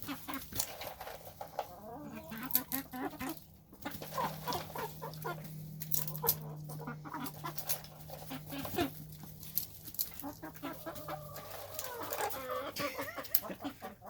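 Rhode Island Red hens cluck and murmur close by in a run, with a steady stream of soft, overlapping clucks, occasional sharper calls, and a drawn-out hen croon in the middle.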